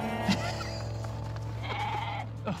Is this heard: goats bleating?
yes